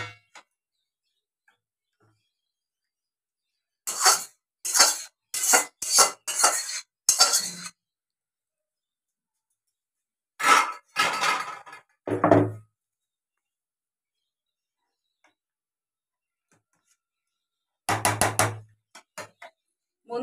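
A pot of fish curry is taken off a gas stove amid sharp metallic clinks and clattering of dishes and utensils, coming in short bursts separated by long silences, close and crisp with no talk.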